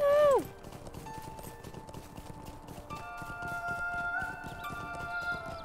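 Horse hooves clip-clop in the fantasy online game The Lord of the Rings Online, a steady trotting patter under faint game music, opening with a brief high whinny-like sweep.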